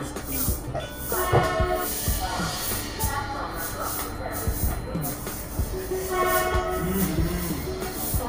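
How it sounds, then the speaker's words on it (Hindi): A Rajdhani Express train pulls into Kanpur Central railway station, with rumbling wheels, hissing brakes and horn blasts echoing across the platform, while faint voices are heard now and then. "ट्रेन का पहला halt Kanpur central railway station आखिरकार हम पहुंच ही गए।"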